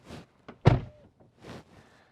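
A car door shutting, heard as one solid, close thunk between fainter cabin rustles and a brief whirr, with no talking.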